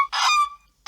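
Large birds call at sea, heard from a cruise ship: two loud, honking, goose-like cries close by, separated by a short silence, with no talk over them.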